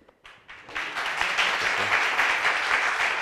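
Audience applause that rises quickly from a few scattered claps into full, steady clapping and holds for about three seconds, with no one talking over it.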